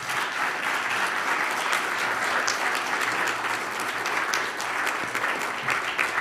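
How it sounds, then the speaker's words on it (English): Steady audience applause for panelists at a community event, a continuous, even patter of many hands clapping, moderately distant and unbroken for several seconds, without speech on top. "Let's give another round of applause for our panelists."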